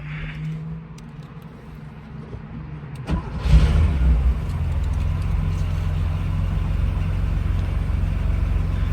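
A 1978 Porsche 911 Euro cranks briefly and fires, catching with a loud burst before settling into a steady, rumbling idle close by.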